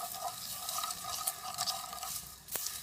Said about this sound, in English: Give it a good stir occasionally, you don't want anything to burn.